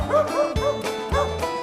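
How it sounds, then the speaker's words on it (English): A dog gives a run of three or four quick, close yapping barks with whiny, rising tones, loud and clear with no talking. "Dog,"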